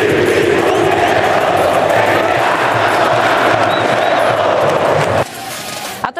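Cruzeiro supporters in the stands at the Mineirão stadium roar and shout in protest, a loud, continuous crowd din that drops off abruptly near the end.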